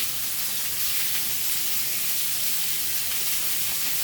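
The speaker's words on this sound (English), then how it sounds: "I'm going to throw these on the side here, because I like to sear my meat" A steady, close hiss of pork loin searing in a hot pan runs unbroken and fairly soft, with no talk over it.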